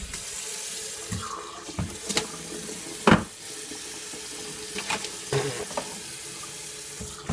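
Water runs steadily from a tap into a sink, a continuous hiss with occasional clunks and splashes. Brief vocal sounds appear here and there.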